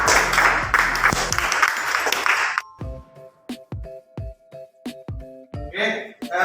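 A classroom of students claps together in a brief, busy burst that stops abruptly, followed by a teacher talking with a few scattered sounds.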